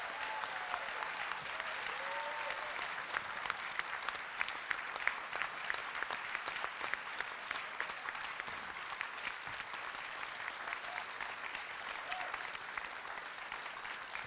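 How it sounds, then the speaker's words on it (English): An audience at a UFO panel discussion on the Phoenix Lights claps steadily, a dense, even patter of many hands that stays at the same level throughout, with no voices over it. "How about a great round of applause for all of our panelists?"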